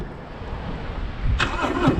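A 2018 Harley-Davidson Street Glide Special with a Milwaukee-Eight 107 motor and aftermarket performance exhaust fires up after low rumble, its engine catching at the midpoint and settling into a loud, close growl.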